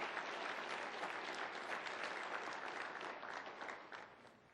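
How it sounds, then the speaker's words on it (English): An audience at a 2011 community breakfast gives a round of applause, a dense steady wash of clapping that holds level and then fades out toward the end. "let's give him another round of applause"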